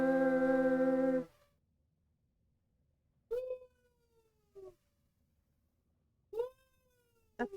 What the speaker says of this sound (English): That's the new howl Jake's doing